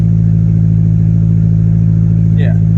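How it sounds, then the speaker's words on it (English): A Honda Civic EJ1 with a D16Z6 engine runs steadily with a strong low engine drone throughout, a short higher-pitched rise near the end of the clip. "But it's revving properly."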